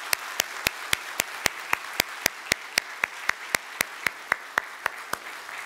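A church congregation claps in steady, evenly spaced unison beats, about four per second, to celebrate a pastor who is leaving. The sharp claps are loud and continuous throughout, with no talking.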